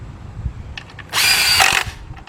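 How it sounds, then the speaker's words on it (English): Cordless nut driver with a 13mm shallow 3/8-drive socket running oil pan bolts on a 2005 Cadillac CTS 3.6 engine: a few faint clicks, then one loud, close, high-pitched whirring burst of under a second. "I'm going to use a 13mm shallow socket, 3/8 drive with my cordless nut driver"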